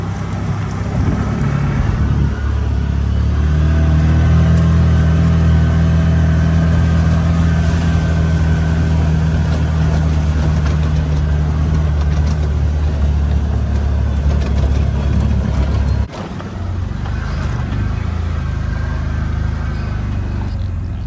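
Engine of a farm vehicle nicknamed the bacon bus driving on a farm, a steady loud low rumble holding for about sixteen seconds before it drops off, then lighter running noise continues.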